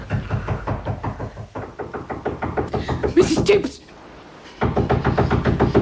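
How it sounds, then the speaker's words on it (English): Rapid, loud knocking on a bedroom door, a long run of hard raps that pauses and resumes, mixed with a theatrical voice calling out in a radio drama. "Someone knocking on your bedroom door."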